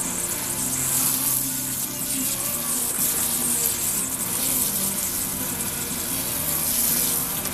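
Steady, forceful hiss of water spraying from a jet hose onto a bonsai, continuous and close, with no pauses throughout.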